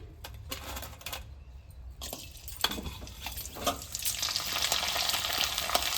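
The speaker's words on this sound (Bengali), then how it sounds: "এবারে তেলের মধ্যে আমি দিয়ে দেব কয়েকটা, ভেজে দেখাচ্ছি।" Papads dropped into hot white oil to fry, a quiet start with a few clicks, then bubbling and sizzling that grows louder and denser toward the end.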